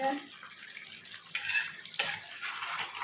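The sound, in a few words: chicken frying and being stirred in a pan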